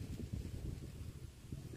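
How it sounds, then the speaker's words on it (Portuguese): A breeze blowing outdoors at a quiet fishing spot, a faint, low, gusting rumble that swells and fades unevenly with no voices. "Essa brisa aqui do vento, gente, que vem pra cá, vem daqui."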